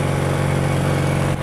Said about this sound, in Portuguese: em baixas rotações, não tô sentindo falha nenhuma na moto